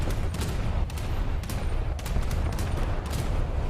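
Naval guns fire a steady barrage in the War Thunder game, with repeated sharp booms every half second or so over a dense, loud rumble of battle noise.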